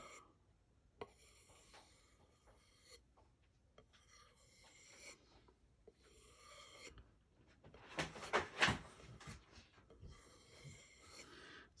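A Bark River Michigan Hunter knife blade stroked along a leather strop, soft rhythmic rubbing swipes in separate passes with pauses between, faint and close.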